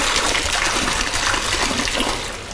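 Box wine pours from the tap into a mixed drink of peach vodka and triple sec, a steady, close gushing splash of liquid that holds evenly before tapering off at the end.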